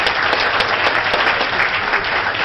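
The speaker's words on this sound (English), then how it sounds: "I want to also give Councilman Jay Stewart a round of applause for his years of service." Applause at a Democratic memorial breakfast for Councilman Jay Stewart, a dense, loud round of many hands clapping continuously throughout.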